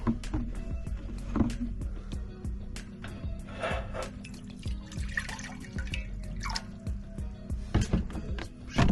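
Collected rainwater pours and drips into a container aboard a boat, with splashing, trickling water and sharp clicks and knocks in an irregular rhythm, fairly close.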